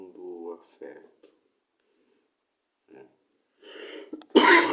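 A person coughs once, loud and close, after some quiet speech and a pause.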